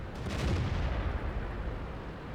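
Heavy tank cannons fire regular armor-piercing rounds in a tank battle game, a loud booming blast with a sharp onset and a long rumbling decay, heard alone without voices.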